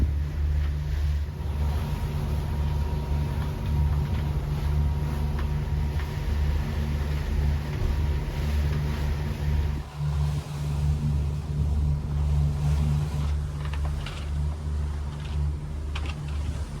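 A boat's starboard engine runs steadily on a sargassum-strewn sea, a loud continuous low drone with a brief dip near the middle, then carrying on unbroken.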